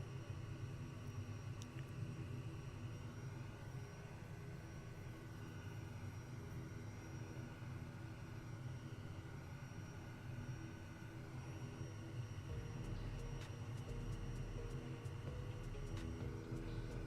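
Steady drone of a Kodiak K100 aircraft engine taxiing in the MSFS 2020 flight simulator, a continuous, even hum with a faint high whine, quiet and unbroken throughout.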